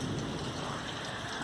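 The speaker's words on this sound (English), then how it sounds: "You hear the thunder?" A heavy rainstorm pours with dense, steady hiss, and a low rumble of thunder rolls underneath, loud and continuous with no voices.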